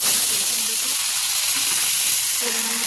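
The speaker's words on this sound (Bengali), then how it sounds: "এদিকে কড়াইতে পেঁয়াজ আর কাঁচা লঙ্কাটা ভালো করে ভেজে নিচ্ছি" Onion and green chilli fry in a wok, making a loud, close, continuous sizzling hiss with faint stirring clinks underneath and no one speaking.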